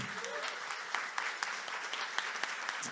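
A church congregation at a conference service applauds together in a dense, steady wash of clapping, with a few sharper individual claps standing out above the crowd.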